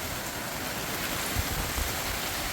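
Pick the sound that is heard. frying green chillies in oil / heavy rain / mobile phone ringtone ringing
heavy rain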